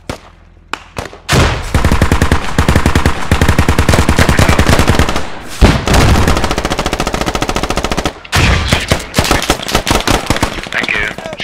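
Rapid automatic gunfire in the military shooter game Squad, loud and close, sustained bursts with brief gaps between volleys and no talk over it.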